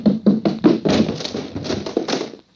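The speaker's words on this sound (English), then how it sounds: "Boy, that's one way of opening a door" A radio-drama sound effect of a door forced open by someone running into it: a quick series of hollow thumps and taps like hurried steps and blows, then heavier knocks that trail off into quiet.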